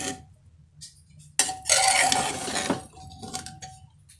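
Pulao being gently stirred in a pot, with scattered clinks and scrapes of a spoon against metal and a louder burst of mixing noise in the middle, close and fairly quiet, with no talking.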